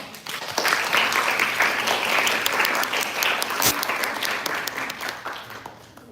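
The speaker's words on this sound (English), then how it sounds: "let us once again show our deepest appreciation with a warm round of applause" A large audience at a live career-development event gives a warm round of applause, dense and sustained for several seconds, easing slightly toward the end with no talking over it.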